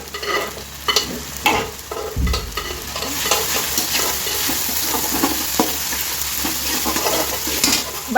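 Pav bhaji masala with turmeric and red chilli sizzles and fries in a pan, with steady close stirring and scraping of a spoon throughout, no speech.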